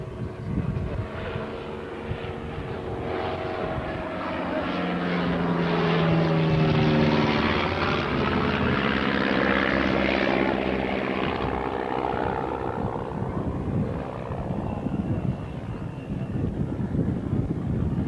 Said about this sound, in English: Miles messenger, powered by 2 Cirrus Minor 2 engines.